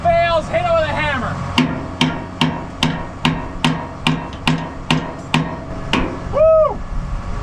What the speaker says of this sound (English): When all else fails, hit it with a hammer.